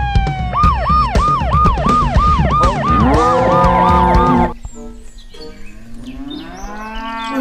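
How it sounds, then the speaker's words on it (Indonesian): A toy Limousin cow gives a loud, electronic mooing call, a run of repeated wavering tones followed by a sliding low moo, clear and close with no talk over it. "Di sini ada sapi limosin."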